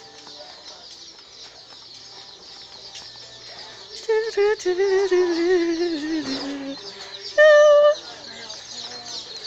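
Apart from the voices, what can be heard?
birds clucking and chirping at a store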